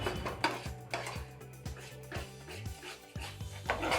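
A spoon stirs thick mawa barfi mixture in a metal pan over low heat, giving rhythmic scraping knocks against the pan about twice a second, up close with no talking.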